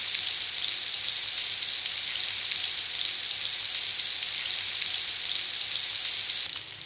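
Pieces of fish fry in oil in a pan with a steady, close sizzle and a crackling hiss that carries on evenly, with no voices.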